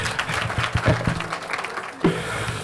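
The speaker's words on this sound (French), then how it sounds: "Applaudissez pour eux," An audience claps steadily, a dense patter of applause at moderate volume, with a few sharper knocks mixed in.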